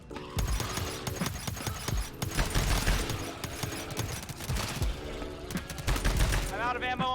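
Rifle gunfire in the co-op shooter GTFO, rapid bursts of shots mixed with clanking game sounds and other effects, loud and dense throughout, with players talking over it.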